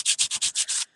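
Six quick, even strokes of sandpaper scrub back and forth across a canvas up close, each a bright rasp, then stop abruptly.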